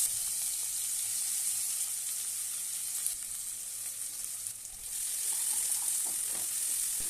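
Chopped onion frying in mustard oil with nigella seeds in a pan for a Bengali fish curry, giving a loud, dense, continuous sizzle that dips briefly midway and then returns, heard close with no voices.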